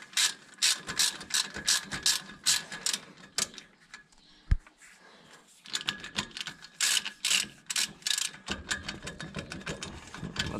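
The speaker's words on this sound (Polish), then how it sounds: "Będę odkręcał ten wentylator." Ratchet wrench clicking in rapid bursts of pawl clicks while unscrewing the fan on a Bizon combine harvester, close and loud, with a sharp metallic knock midway and a short pause.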